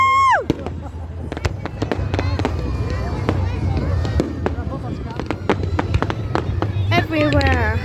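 Fireworks display exploding in rapid succession, with sharp near bangs and crackles, whistling rockets and a loud burst of crackling at the end, over excited crowd chatter and voices.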